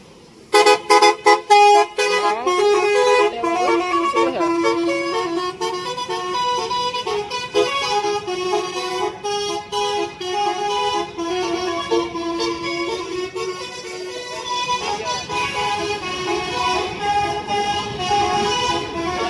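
A bus's loud, melodic telolet musical horn plays a rapid, tune-like sequence of tooting notes over a running engine, repeating with brief pauses, at Batoh bus terminal.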